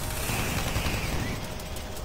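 Rapid automatic fire from a chain gun in the Doom 3 co-op Hell level, a dense continuous roar of gunshots that runs loud and steady for about two seconds with no break.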